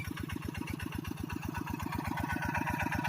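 An engine-driven water pump runs steadily while filling a rice field in winter, its small engine chugging in a fast, even idle rhythm, loud and close, with no talk throughout.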